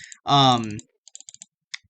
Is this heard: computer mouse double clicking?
yes